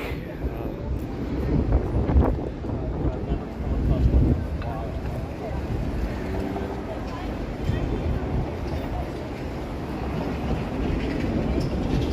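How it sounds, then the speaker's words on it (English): Gusty wind blows steadily along a downtown Toronto street near Queen and Spadina, a loud continuous roar buffeting the microphone throughout, with city rumble underneath. "Whoa, okay, the wind is back."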